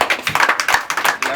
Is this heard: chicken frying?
no